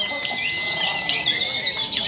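Lovebirds chirping at a bird singing contest, with rapid high tweets and trills over a busy outdoor background, fairly loud and continuous.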